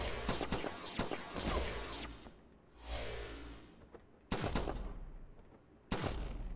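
Enemy gunfire in the Flashback video game, sharp shots cracking out in quick bursts with a whooshing pass between them, loud and close, no voices.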